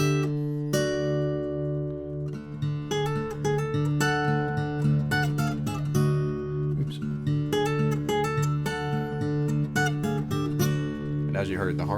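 A guitar plays a riff: a continuous run of plucked, ringing notes over a sustained low bass, close and clear for about twelve seconds, with no talking.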